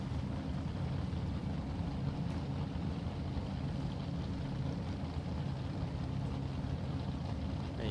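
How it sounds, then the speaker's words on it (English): Outlaw Radial drag race car engine at an Australian radial drag racing test session, a steady loud engine roar holding throughout at distance without clear revving peaks. "Another Outlaw Radial car."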